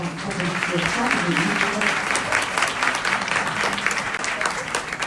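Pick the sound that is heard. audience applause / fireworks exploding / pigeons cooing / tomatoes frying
audience applause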